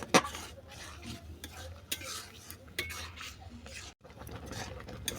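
Radish halwa cooked with ghee and liquid jaggery being stirred in a pan, repeated scraping and rubbing strokes of a spoon over a soft sizzle, close, with a brief break in sound near the end.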